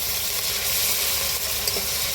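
Onions and tomatoes frying together in a pan for a village-style Bengali dish, giving a steady, even sizzle with a soft hiss throughout, close and moderately loud with no voices.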